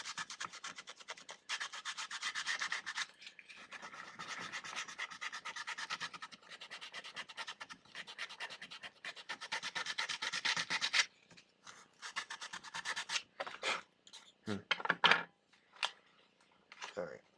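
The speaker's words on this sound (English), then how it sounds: "sanding's taking too long" Epoxy putty on an X-Shot Mega Eliminator blaster is sanded with steady back-and-forth rasping strokes, close and fairly quiet, and the strokes turn shorter and more sporadic near the end.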